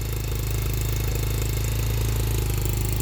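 A 2020 Vader gen2 engine idling just after its first start, a steady, loud, low mechanical drone with an even throbbing rhythm and no changes in pace throughout.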